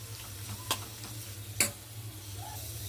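A spoon stirs cooked greens and boiled lentils in a pan over a quiet simmer, with two distinct scraping knocks against the metal and a faint low hum beneath.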